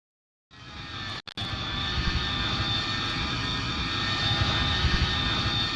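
Avro Vulcan jet bomber engines roar steadily in a Roblox flight game airshow, a loud continuous broadband drone with a brief cut near the start, no talk over it.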